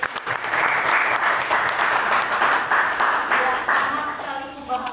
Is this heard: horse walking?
no